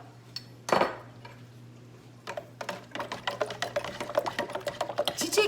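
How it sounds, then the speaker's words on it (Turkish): A spoon stirs ginger and thyme into a bowl, giving a loud initial clink followed by a rapid series of light scraping and tapping strokes against the bowl. "Hemen zencefilimi karıştırıyorum içerisine."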